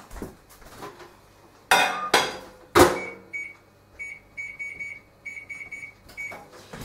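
Clattering dish and microwave door clunks, then a run of short electronic beeps from the microwave keypad setting medium-high for 1.5 minutes, fairly close and moderately loud.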